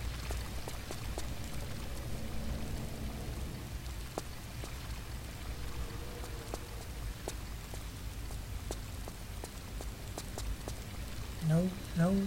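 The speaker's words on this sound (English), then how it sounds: "Water." Water pours in the game Tomb Raider: The Last Revelation sequel, a steady rushing wash with scattered drips and splashes throughout, moderately loud, ending with a short tonal in-game effect.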